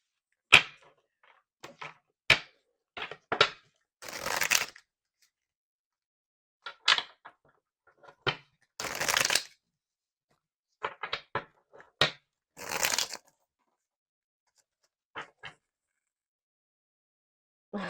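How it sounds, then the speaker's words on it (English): Brief bursts of papery riffling and flicking, a tarot card deck being shuffled in short quick runs separated by pauses, close and fairly quiet. "while I was shuffling this deck"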